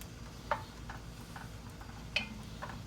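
A spoon stirs tomato sauce with basil in a cooking pot, giving a few soft scraping clinks over a low simmering background.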